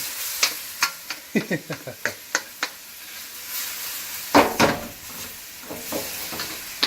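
Ginger frying on a stovetop over medium heat, a low sizzle under a run of quick metallic stirring taps, followed by a brief louder scrape and hiss.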